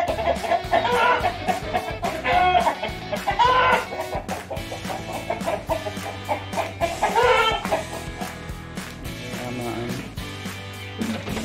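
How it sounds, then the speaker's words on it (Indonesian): Young Magon chickens, about six months old, clucking and peeping in a dense, busy layer that runs throughout, close and fairly loud, with voices talking nearby. "anakan ayam."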